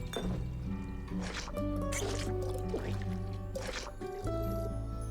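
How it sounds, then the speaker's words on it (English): Liquid squishes and drips as the top layer is poured off in the video game Tavern Talk, wet gurgling pours set against a steady musical backing, close and soft. "So we can just pour off like the top bit."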